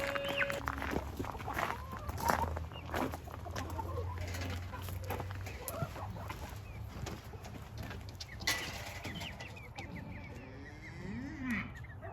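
A backyard flock of roosters and hens with newly introduced chicks, giving scattered clucks and bird calls over a steady low background hum, fairly close and continuous.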